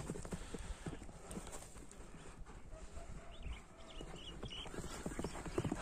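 A horse's hooves clip-clop in a steady walking rhythm on hard ground nearby, with faint birds in the background.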